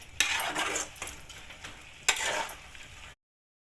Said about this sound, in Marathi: आता अजून एकदा छानपैकी असं मिक्स करून घेऊ.